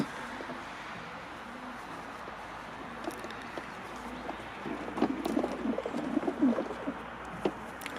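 Pigeons coo softly at a loft during vaccination, with low murmuring calls rising in the second half over faint background rustling and handling noises.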